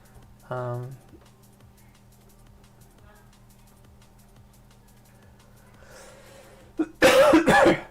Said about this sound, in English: I still haven't fully shaken the cough